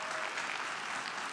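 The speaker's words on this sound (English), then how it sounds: "let's give her a round of applause." Graduation ceremony audience of graduates, family and friends at a college campus in Mississauga claps for the incoming academic manager, a continuous wash of many hands, fairly soft and distant, with no voices.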